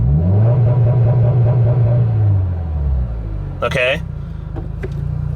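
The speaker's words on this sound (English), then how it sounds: "I'm putting it in first gear, and I'll rev it." A Subaru WRX engine with the clutch in and first gear selected revs up and holds a loud steady rumble, then drops toward idle, with a person briefly speaking over it.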